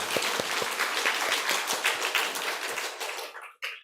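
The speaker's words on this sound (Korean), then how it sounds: "다시 한번 하나님께 영광의 박수 드렸으면 좋겠습니다" A church congregation claps in dense, steady applause that thins out and stops near the end, leaving a brief pause before a final faint burst.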